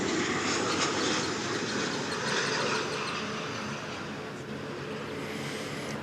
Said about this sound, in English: Got another Delta flight coming in, this one from Salt Lake City, flight 1665.